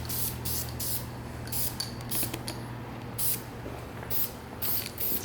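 Light coats of spray paint on a 1971 Mustang Mach 1 during restoration: close, steady hissing bursts from a spray gun, pulsing on and off over a low background hum.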